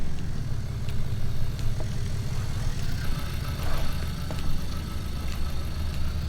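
A Fendt tractor engine idling and rumbling steadily in Farming Simulator 19, a low, continuous drone with a faint knocking texture that stays even throughout, close and alone without talk.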